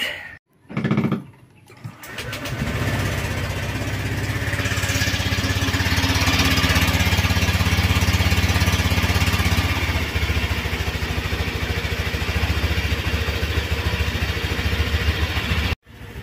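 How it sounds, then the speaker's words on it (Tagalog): A Honda Click scooter engine cranks briefly, then catches and runs steadily with a loud, close, continuous idle and rattly mechanical clatter, no talking. "i-start lang natin yung ating engine para matesting natin yung ating coolant"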